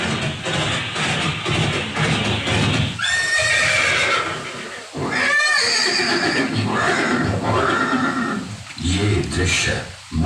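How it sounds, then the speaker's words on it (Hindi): A horse, Maharana Pratap's steed Chetak, neighs loudly in two or three shrill whinnies, with hoof clatter and shuffling in between. The sound is close and dense, and background music or voices run underneath. "ये दृश्य महाराणा प्रताप और सुविख्यात स्वामी भक्त घोड़े चेतक के अंतिम मिलन का है।"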